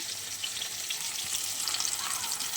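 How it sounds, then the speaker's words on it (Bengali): Cumin and chilli powder fry in hot oil for a Bengali rohu fish, brinjal and potato curry, giving a steady, dense sizzle throughout with no talking. "আমি জিরের গুঁড়ো লঙ্কার গুঁড়ো দিয়ে দিলাম। এবার আমি সুন্দর করে ভেজে নেব।"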